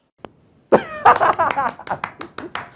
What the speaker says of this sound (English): Round of applause for this lady defending all of the Jamaicans